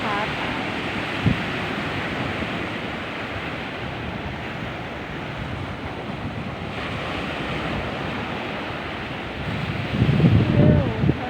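Strong sea waves crash and wash continuously along a Thai coast, a broad roaring surf mixed with heavy wind buffeting the microphone, with a louder gust-driven surge near the end.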